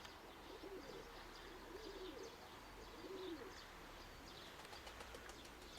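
Pigeons cooing softly in a few repeated low phrases, with faint chirps and wing flaps in an open outdoor setting.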